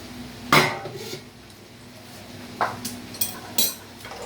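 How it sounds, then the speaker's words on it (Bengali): Metal lid lifted off a cooking pot of boiling vegetables, with one sharp clank followed later by a few lighter clinks and knocks, close by and alone with no talk. "আর এটা ঢাকনাটা উঠিয়ে দেখি এবার এটা কি কন্ডিশন হয়ে রয়েছে"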